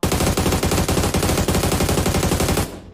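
Automatic gunfire in a battle royale video game: a loud, close, rapid burst of shots that continues steadily for nearly three seconds before cutting off abruptly.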